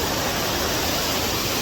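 Riley Moore Falls in South Carolina rushes with a loud, steady broadband roar that holds even from start to finish, with no voices over it.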